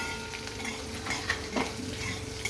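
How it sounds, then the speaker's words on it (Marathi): Peanuts frying and being stirred in hot oil for poha chivda, a steady soft sizzle with scraping stir strokes against the pan, close by and fairly quiet. "आता शेंगदाणे चांगले तेलात परतून घ्यायचे आहेत आपल्याला"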